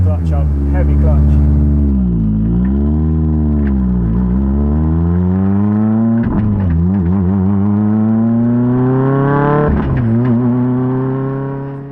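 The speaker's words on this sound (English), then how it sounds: "it was impossible to hear what I was saying over the noise inside the car" Inside the cabin of a Ford Fiesta R5 rally car, the engine drones loud and close, its pitch rising and falling through repeated revs and gear changes, with speech partly buried under the noise.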